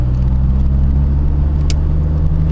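Chevrolet Corsa Classic 1.0 VHC engine running on ethanol with a filter and sport exhaust, a loud, close, steady low rumble throughout with no talk.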